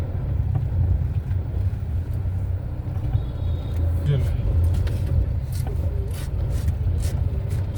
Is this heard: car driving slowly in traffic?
yes